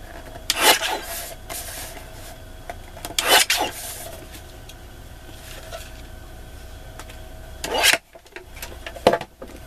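Paper scraps are trimmed for card making in a few short close rasping cuts, then a quiet stretch, and a couple more brisk strokes near the end, with no talking.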